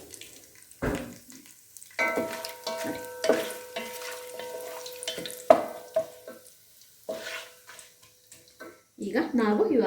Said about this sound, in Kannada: ನಾನು ಇಟ್ಕೊಂಡಿರುವಂಥ ಮಸಾಲೆನ ಇದರೊಳಗಡೆ ಹಾಕ್ತಾಯಿದ್ದೀನಿ